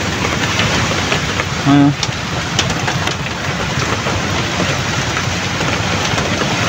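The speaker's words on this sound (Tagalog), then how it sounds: "Malakas yung ulan." Steady, dense hiss of heavy rain pouring continuously on a fishing trip, with a brief tonal sound and faint voices in the background.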